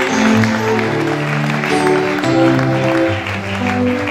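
A church congregation applauds at a seminar, with steady, loud and continuous clapping from a crowd. Sustained sung or musical tones run underneath, and the applause goes on without a break.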